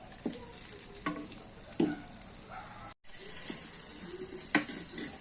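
Tomato and green chillies are stirred in a frying pan, a gentle sizzle under a few scraping spoon strokes, with a brief dropout partway through and faint background voices.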